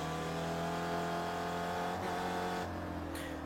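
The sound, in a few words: race cars driving past on a racing circuit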